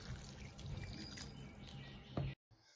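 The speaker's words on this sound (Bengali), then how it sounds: "এখন সয়াবিনগুলোকে ঠান্ডা জল দিয়ে ভালো করে ধুয়ে নেব।" Boiled soybeans rinsed under cold running water, a steady broadband splash and trickle from a tap that cuts off abruptly near the end, then resumes briefly and faintly.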